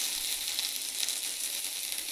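Sliced bitter gourd fries in a pan, giving a steady, close, crackling sizzle that holds an even level throughout with no voices.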